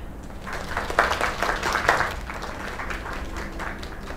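Crowd applauding after a live performance at a bar, with a dense, steady wash of clapping mixed with murmur that swells briefly around the middle and holds at a moderate level.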